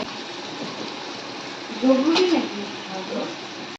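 Onions drop into a hot pan of cooking mutton, setting off a brief burst of sizzling and spattering over a constant background hiss, with people talking nearby.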